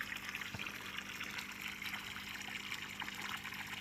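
Water pushed by a small motor through an aquaponics pipe, a faint steady trickling, gurgling flow with no breaks, heard at a low, even level.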